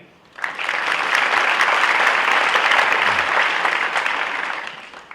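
An audience at a college chancellor's opening session applauds steadily, the dense clapping swelling in quickly and holding before fading near the end, with no talk over it.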